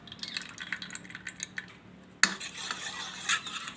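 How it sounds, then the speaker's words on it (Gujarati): Water being stirred into batter for sev rolls in a bowl, soft wet scraping and clinking of a spoon, then a sudden clatter and a splashy, dripping swirl, close by with no speech. "આમાં થોડું થોડું પાણી નાખીને આપણે ખીરવાનું બનાવી લઈશું."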